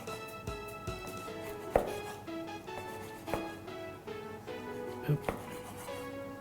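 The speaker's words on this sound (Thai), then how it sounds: "หั่นให้เป็นชิ้นแบบ ตามยาวแบบนี้เลยนะครับ เอาชิ้นหนาๆหน่อย" A knife chops grilled chicken into thick lengthwise pieces on a cutting board, irregular thuds close up, with quiet background hum.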